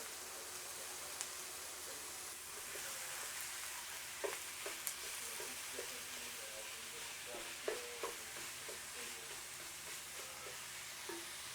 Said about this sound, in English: While my beef is sauteing